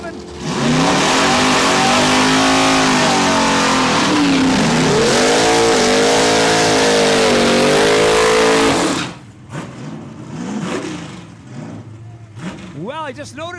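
An Oldsmobile drag racing car at Saskatchewan International Raceway roars loud and close at full throttle for about nine seconds, engine pitch rising and falling, then cuts off abruptly, leaving fainter engine noise and a brief rising whine.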